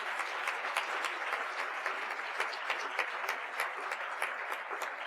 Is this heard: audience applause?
yes